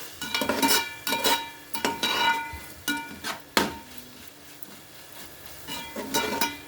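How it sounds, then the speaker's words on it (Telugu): Chicken frying with ginger-garlic paste in a pan, a spoon stirring and scraping in short bursts of clatter and sizzle, close and moderately loud with quieter gaps between strokes. "పచ్చివాసన పోయే వరకు వేగించాలి"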